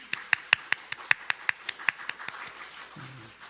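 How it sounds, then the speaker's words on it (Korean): A church congregation claps during a Christmas thanksgiving service, giving about a dozen sharp, evenly spaced claps in unison that gradually thin out, followed by a faint low voice at the end. "우리 하나님께 영광의 박수 올리겠습니다."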